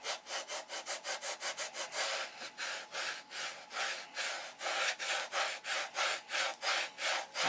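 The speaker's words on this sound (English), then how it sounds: "I'm just sanding." Close, rhythmic strokes of sandpaper on the wooden tips of a control line Thunderbolt model plane stabilizer, with quick, evenly spaced rasps that pause briefly and then resume.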